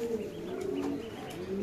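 Pigeons coo at a busy pigeon market, a steady, low, throaty murmur that keeps going without a break, fairly close.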